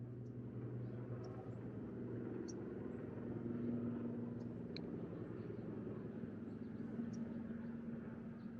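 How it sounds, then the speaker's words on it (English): A helicopter passes at a distance, a steady low rumble holding evenly through the whole stretch with faint higher ticks above it, no voices over it. "Maybe this helicopter coming by."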